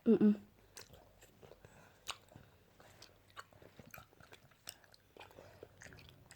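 Close, wet chewing and biting in an eating contest, with a couple of loud bites at the start and then irregular crunching and smacking mouth sounds, with faint voices in the background.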